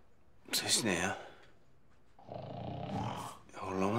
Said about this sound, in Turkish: Horlama sesi bu.